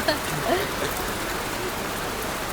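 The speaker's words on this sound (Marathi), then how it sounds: "पाऊस थांबायला पाहिजे, बाकी काय नको आहे मला" Steady rain falls on a hill-station stay in Munnar, a dense even patter that holds at a constant level throughout with no voices over it.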